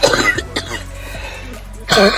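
A couple of harsh coughs, one at the start and another near the end, with a short quieter stretch between them.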